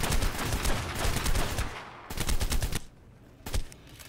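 Gunfire in ARK: Scorched Earth shooting at worms, dense rapid bursts of shots in a loud fusillade, pausing briefly then returning in shorter volleys.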